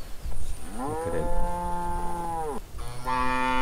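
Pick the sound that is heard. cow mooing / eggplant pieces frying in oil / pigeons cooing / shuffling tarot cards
cow mooing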